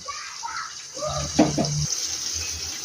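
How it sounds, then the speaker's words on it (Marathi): Cooked rice for mutton dum biryani being drained through a strainer, with a short gush of pouring water and steady splashing under a voice that talks over it. "तांदूळ चाळणीमध्ये गाळून घेऊ"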